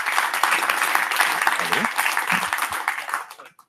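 An audience at a firmware conference talk claps in a steady burst of applause that gradually thins and fades out near the end.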